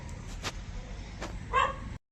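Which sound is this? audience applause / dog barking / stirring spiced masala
dog barking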